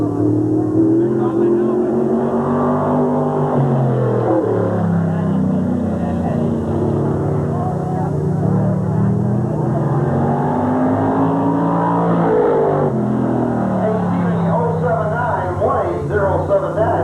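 Race cars lap Sandusky Speedway in a 1986 cavalcade, engines roaring loudly and continuously with rising and falling pitch as they accelerate and sweep past, with no break in the noise.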